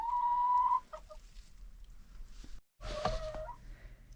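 Chickens cluck and let out a drawn-out squawk nearby in snowy weather, with short pauses between calls and a quiet background.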